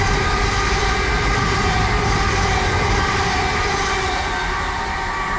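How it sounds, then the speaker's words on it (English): A train runs through a station on the Tottenham Hale to Hertford East branch line, a loud, steady rumble of wheels on rails with a sustained mechanical drone throughout and no talking. "passing through, we've got a train"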